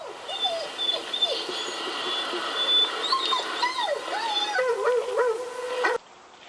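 A dog gives wavering, high-pitched yips and howl-like whines that run almost continuously for about six seconds, at moderate volume and then abruptly cut off.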